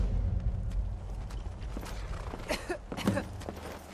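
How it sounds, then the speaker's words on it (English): Horse hooves clip-clopping in Skyrim Special Edition, modded, as riders head toward a mine, uneven thuds and creaks close by with no speech. "want to take the horses and ride up to the base of the mine, take Angie's horse."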